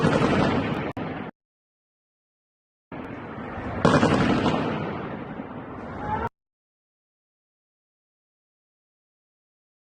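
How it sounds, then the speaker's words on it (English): Two loud bursts of sustained rapid firing with a silent gap between them, dense and close, ending abruptly into silence. "This is war level gunfire."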